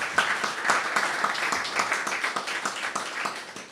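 An audience at an emancipation anniversary symposium gives a round of applause, a brisk, continuous patter of many hands with slightly uneven peaks, fairly close and alone.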